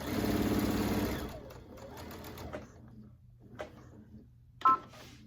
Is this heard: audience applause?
no